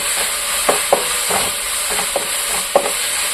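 Chicken curry masala of onion and tomato fries in a pan, a constant bright sizzle with a handful of sharp scraping stirs spaced through it, close and fairly loud, no voices.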